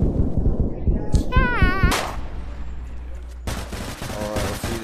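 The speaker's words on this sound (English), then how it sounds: "shotgun, I'm assuming." Shotgun blasts in a VR shooter game come as loud, sharp bursts mixed with whistling tones and other game effects, close and busy.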